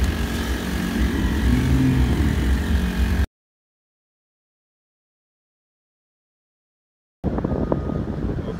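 A Honda 35cc engine drives an Expandacraft boat at full throttle through current, a steady close buzzing drone with wind rush that cuts out for a few seconds of silence before returning.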